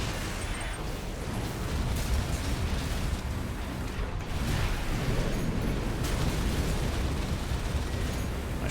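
An enemy mech in Armored Core VI fires a shot amid a dense, continuous roar of blasts and rumbling explosions, loud and sustained throughout with no clear gaps.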